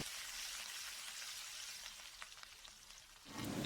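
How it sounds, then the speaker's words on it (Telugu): Green chilies, dried red chilies and curry leaves frying in hot oil, a steady close sizzle that stays even throughout with a louder burst of spitting at the end. "అలాగే గుప్పెడు కరివేపాకులను కూడా వేసుకొని మొత్తం కూడా వేయించుకుంటున్నాను"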